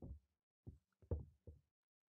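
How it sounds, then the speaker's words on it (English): Quiet synthesized knocking from a modulator in a looping delay setup: five dull, low thumps with uneven gaps, soft and isolated against silence. "This modulator here is going to play another instance of the knocking sound,"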